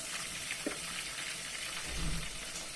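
Flour and melted margarine roast in a pan with a steady, soft sizzle and crackle. A faint scrape of stirring comes near the end, and no voices are heard.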